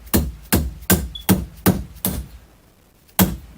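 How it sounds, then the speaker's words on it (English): A dead blow hammer strikes metal clamped in a vise while mounts are fabricated. There are seven sharp, close knocks, six in a steady rhythm about half a second apart, then a pause and one final hit. "And this is a dead blow hammer."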